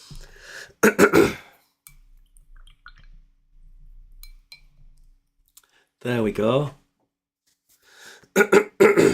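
Several harsh coughs and throat-clearing bursts come in clusters near the start and end, with a short spoken phrase amid quiet pauses.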